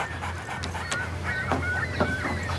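A pet dog pants in quick, rhythmic breaths, close by, with a few short squeaky whimpers over a low steady hum and no talk.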